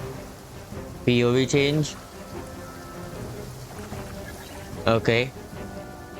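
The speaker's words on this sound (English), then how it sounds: "everywhere is raining" Steady rain falls in the Genshin Impact game world, a constant hiss heard under two short bursts of speech.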